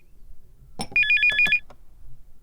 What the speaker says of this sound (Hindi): कितनी देर से फोन बज रहा है